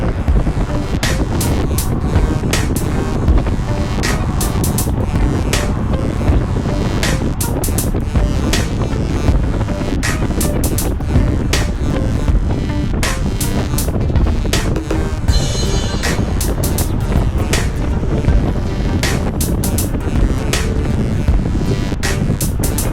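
Steady, loud wind roar buffets the microphone while riding a road bicycle in a small group near Lake Conroe, with continuous broadband rushing and frequent sharp gust bursts, no talking.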